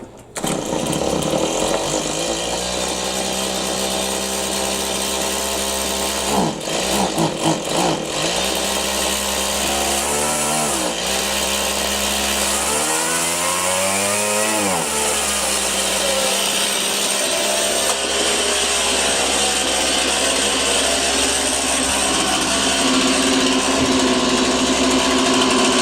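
A small chainsaw engine catching and running loud and close, revving up and down several times with swooping pitch changes near the middle, then settling into a sustained high buzz.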